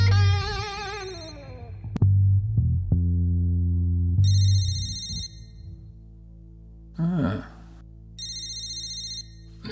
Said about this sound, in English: What I've got here is a call that's coming through on my mobile phone.